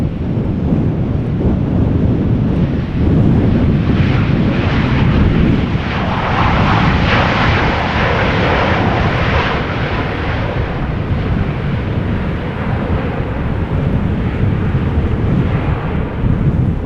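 Transavia Boeing 737-800 landing at Amsterdam Schiphol during storm winds roars loudly and steadily, its engine noise swelling mid-clip amid heavy buffeting wind noise on the microphone.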